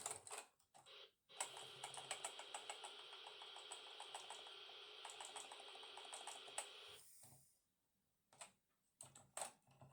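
Rapid, fairly faint clatter of keys being pressed on a BBC Micro computer keyboard, a dense burst of clicks lasting several seconds, then a pause and a few scattered taps.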